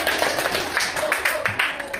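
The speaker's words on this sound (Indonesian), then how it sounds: "Oke, kita tepuk tangan dulu." Classroom of school pupils clapping together during a junior high science lesson, a dense, steady patter of many hands lasting the whole moment, with some voices mixed in.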